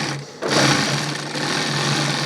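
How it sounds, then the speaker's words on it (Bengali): A sewing machine top-stitching a handbag runs in a steady close whirring buzz, briefly quieter at first before settling into continuous stitching. "এইবার চাপ সেলাইটা দিয়ে দেবো।"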